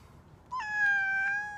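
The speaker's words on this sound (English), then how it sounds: "It's Tippy, the strange cat." A single cat meows once, a clear, near, rising-then-sustained call standing alone against a quiet background with no talk.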